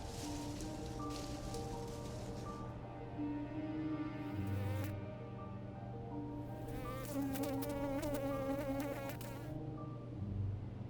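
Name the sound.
insects buzzing around Himalayan glasshouse plant flowers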